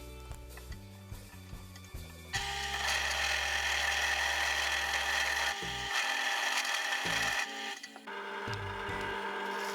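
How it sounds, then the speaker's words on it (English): A hand file scraping excess welded plastic off a broken router handle, a loud sustained rasping run after a few lighter tapping strokes, close up and without speech. "We use a file to trim the excess off."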